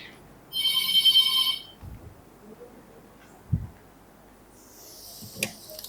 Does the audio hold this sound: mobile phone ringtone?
yes